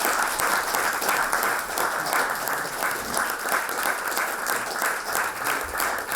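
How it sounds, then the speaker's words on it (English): An audience at the Oxford Union breaks into a steady, dense round of applause after a speech, the clapping sustained and even throughout with no talking over it. "let's give a round of applause for the speech"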